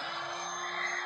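Electric air pump blowing up an air mattress, a constant close whirring hum with a thin motor whine and airy rush, steady for the whole moment.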